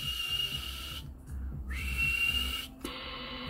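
Whistling sent over a Realistic TRC-465 SSB CB radio on channel 37, heard as a steady high tone that breaks off twice and resumes amid radio hiss and hum.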